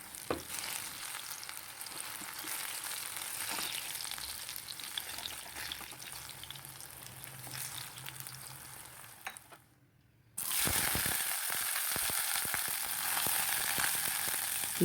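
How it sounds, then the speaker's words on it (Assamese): Brinjal pieces fry in hot oil over a high flame with a continuous loud sizzle that drops out briefly, then returns stronger and steady. "সেইটো হাই ফ্লেমতে ভাজি ল'ম।"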